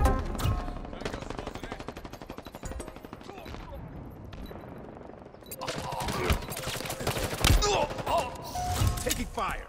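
Rapid automatic gunfire in a Halo Infinite Stronghold multiplayer match, dense bursts of shots throughout that grow louder and more chaotic in the second half, layered with game effects and announcer-style voice callouts.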